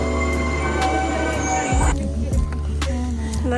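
Train noise at a railway station in Cefalù, Sicily: a steady loud rumble with brief metallic clanks and squeals, with people talking nearby.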